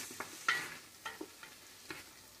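Seasonings such as pepper, cumin and thyme sauté in a pot for coconut-milk fish soup, giving a soft, low sizzle broken by a few light stirring clicks and scrapes, quiet and close.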